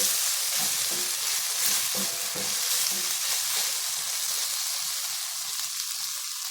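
Chickpea and brinjal curry cooking in a pan, a loud continuous hissing fry with a few soft stirring knocks early on, close and steady without any voices.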